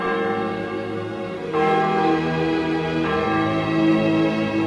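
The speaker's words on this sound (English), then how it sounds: "She died as the Angelus bell was ringing at the convent in Sutton" The Angelus bell rings at a convent in Sutton, a sustained, tonal church bell with a rich overtone series that swells anew at about 1.6 and 3 seconds as further strikes come in, moderately loud and alone without speech.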